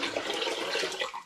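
Rinse water poured from a pan into a brewing bucket for mango and ginger cider, a continuous splashing, gurgling stream of liquid heard close up and alone.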